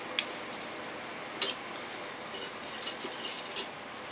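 Breaded chicken parmesan pieces get turned inside a Ninja Foodi air fryer basket, making a few sharp metallic clinks and taps that stand out over a quiet background, without any voices.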